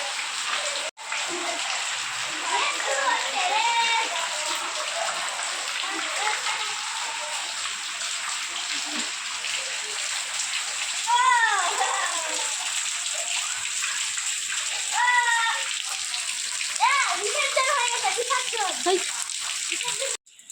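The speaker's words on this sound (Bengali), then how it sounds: "আর এদিকে দেখো বৃষ্টি অনর্গল হয়ে যাচ্ছে।" Heavy, steady rain pours down continuously over a mud house in a Bengali village, a dense wash of hiss and splatter, with occasional bird or voice-like chirps faint underneath.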